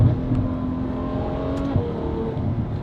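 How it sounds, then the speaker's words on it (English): Ferrari 812 V12 fitted with a Valvetronic Designs sport catback exhaust, valves open, revving up steadily with a smooth, continuous engine note close by, rising slightly near the end. "The car is not overbearing with the valves open. Sounds really good, really smooth sound."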